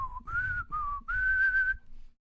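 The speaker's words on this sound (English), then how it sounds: "that whistle noise in the background" A clear whistling tone in a music track, several sustained pitched phrases that glide between notes in short bursts and then stop, sounding close and fairly loud without voices.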